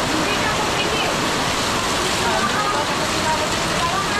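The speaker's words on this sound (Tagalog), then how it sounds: "Ang lakas ng ulan." Very heavy rain pours down in a dense, steady roar, loud and close throughout with no pauses, a constant wash of water noise.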